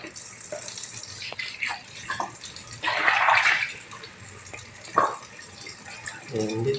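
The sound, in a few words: water running from tap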